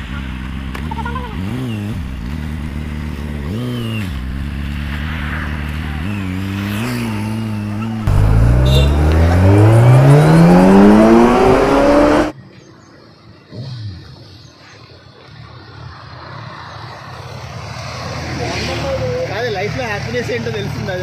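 A superbike engine revs on a group breakfast ride, with a rising throttle sweep in the middle and a steady drone before and after, heard under a voice talking throughout.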